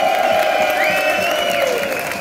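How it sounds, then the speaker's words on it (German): Crowd applause and cheering at the finish of an SBG event, a dense, steady wash of clapping from a large audience, loud and sustained throughout, with a few whistles riding over it. "Nochmal einen fetten Applaus für ihn."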